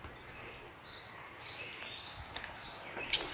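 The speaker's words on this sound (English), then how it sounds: "Birds are a little bit different up here." Faint birdsong drifts through the Springbrook National Park forest near Natural Bridge, several rising whistled calls and a few sharp chirps over a quiet, low background hush, with no talking.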